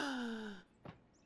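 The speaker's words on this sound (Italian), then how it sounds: "Da quanto respiri così?" A labored, heavy breath from a character in an Italian TV comedy: a long drawn-out exhale fades after about half a second, followed by one short, sharp intake of breath.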